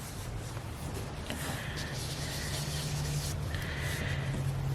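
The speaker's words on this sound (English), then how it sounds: "I'm just going to blend some of this Balmy Blue and just like circular motions here and there, adding it to our background" Blue ink blended onto white card stock with circular motions, a soft steady rubbing and scuffing close by, faint and continuous with slight rises in brushing texture.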